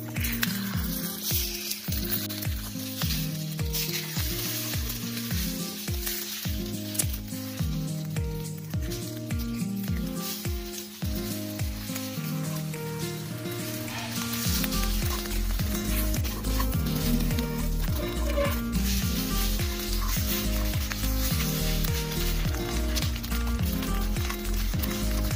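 Drumstick flowers and egg frying in a pan while being stirred, giving a steady sizzle that sits under loud background music for most of the stretch.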